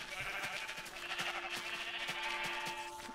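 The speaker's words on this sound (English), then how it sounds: "All those sheep out there are so loud." Several sheep bleat in the Minecraft video game, repeated short nasal calls overlapping at moderate volume over a steady tonal background hum, with no speech.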